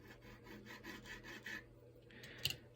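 Quiet, rhythmic rubbing strokes as lines are marked along the side of a model rocket launch rod, a short series of scratchy passes close up.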